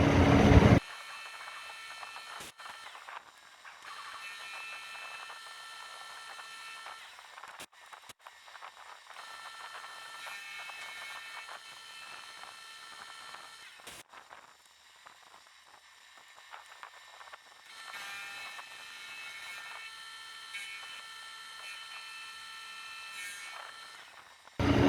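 A K&T Model 2D rotary head mill makes a full-height cut, giving a steady, loud mechanical whine and buzz with bright tonal bands that runs continuously, with a few sharp clicks and brief dips along the way.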